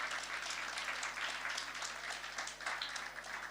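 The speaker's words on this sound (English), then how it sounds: "Round of applause for that." An audience at a girls' high school 115th anniversary lecture claps in steady, continuous applause from a large crowd with no break. The applause sounds moderately distant.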